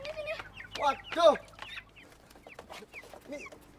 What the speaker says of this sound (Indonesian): Ayam siapa sih ini?